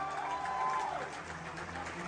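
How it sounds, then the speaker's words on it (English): Audience applause and cheering at the Indiana Jones premiere, steady clapping throughout the crowd with a whistle-like tone riding over it. "but one more applause for him"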